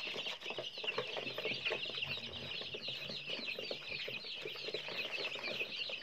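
Free-range crossbred chickens of a striped-head fighting breed cluck and chatter continuously up close, a busy flock filling the yard with overlapping calls and no talk.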